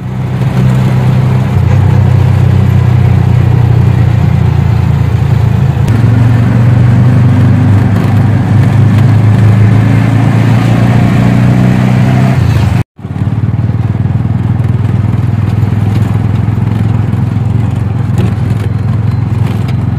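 A car's engine hums steadily at close range while driving along a coastal road toward Vengurla, a low continuous drone with a brief dropout partway through.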